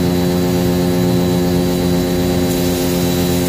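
A steady, loud mechanical drone with a strong hum runs throughout from a Lotus pressure washer motor running while it sprays water, with no one talking.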